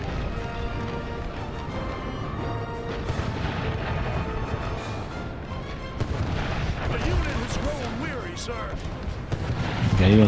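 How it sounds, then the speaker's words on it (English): Artillery fire in an American Civil War battle game, repeated heavy booms rolling continuously across the clip amid dense battle noise, with someone talking over it. "it's just an artillery crew, I think."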